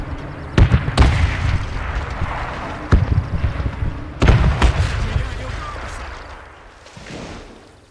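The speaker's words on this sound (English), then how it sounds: "An artillery strike has started." Heavy artillery explosions in the video game Men of War II boom repeatedly at irregular intervals, some near and loud, others more distant, with rumbling decay and voices in the background.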